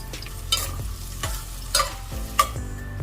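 Onion stir-fries in a pan for vegetable fried rice: a steady sizzle broken by a few sharp scraping spatula strokes against the metal, close up and with no talk.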